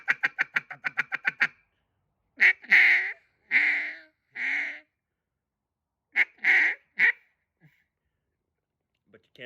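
A Singleton acrylic cutdown duck call is blown in mallard quacks: a fast run of short, sharp quacks, then several spaced groups of louder, drawn-out quacks with silent gaps between them, close and alone.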